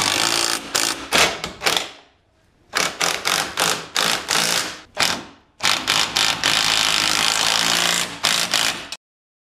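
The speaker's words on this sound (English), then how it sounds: "So I'm gonna bolt these in place" Loud, rapid bursts from a power tool bolting parts in place during a Harbor Freight axle swap, ratcheting buzzes in repeated spurts with short pauses, close up.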